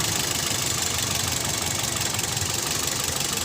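A Toyota Vios engine idles just after a restart, a steady close hum with a faint rapid pulsing and no breaks, in a car with an overheating problem that keeps losing coolant.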